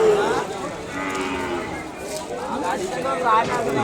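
Cattle moo repeatedly at the weekly Kodada livestock market, and the long lowing calls rise over a steady murmur of crowd chatter nearby.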